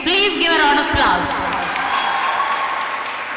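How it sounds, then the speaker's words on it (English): An audience at a college media event breaks into loud, steady applause with some cheering, the clapping swelling early and then thinning slightly toward the end. "Please give a round of applause."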